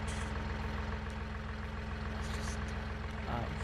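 Tractor engine idling in Farming Simulator 19, a steady low mechanical drone holding an even pulse throughout, fairly quiet and alone with no talk.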